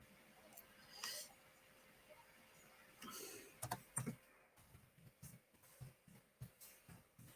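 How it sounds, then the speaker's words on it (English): Typing with one hand on a computer keyboard, irregular bursts of clicky keystrokes close to the mic, clustering toward the end, in a quiet room. "typing with one hand"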